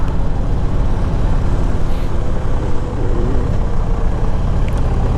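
A 1999 Harley Davidson Electra Glide Standard motorcycle on the road, its engine a steady low rumble blended with wind noise at a constant loud level, no one talking.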